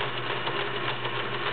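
A Kenmore Model 1730 all-metal sewing machine running a stretch stitch with its metal cam, a steady, close, even mechanical hum and rapid clatter with no pauses.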